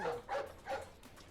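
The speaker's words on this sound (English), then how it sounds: "definitely can't go down a street with dogs" Dogs bark on a city street in the video game Sherlock Holmes: The Devil's Daughter, three quick yappy barks in a row, moderately loud over a faint background.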